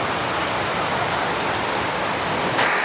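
Heavy rain pours steadily around a flooded house, a dense, continuous hiss of water with no letup, near and fairly loud, with no voices.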